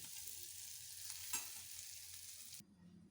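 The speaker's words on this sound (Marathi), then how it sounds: "चांगलं मिक्स करून घेऊ याला" Capsicum frying in a pan, stirred with a soft scrape over a steady sizzle that cuts off near the end, with no one talking.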